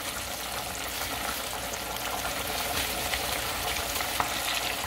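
Pieces of freshly caught bass fry in hot grease with a dense, continuous sizzle and crackle. The sound holds at an even, fairly loud level from start to finish, and no one speaks.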